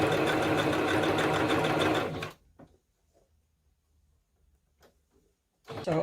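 Sewing machine stitching fabric pockets, a loud, fast, steady whirring run for about two seconds, then near silence with faint handling clicks, then the motor starting again.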